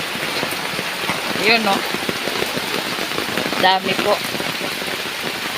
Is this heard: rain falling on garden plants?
yes